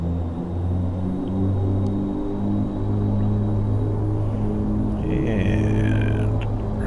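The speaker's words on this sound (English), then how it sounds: "run up the engines and get ready to roll." Aircraft engines running up before the takeoff roll, a steady deep droning hum with layered tones heard from the cabin, plus a higher whine briefly near the end.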